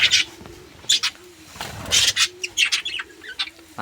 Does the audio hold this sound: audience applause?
no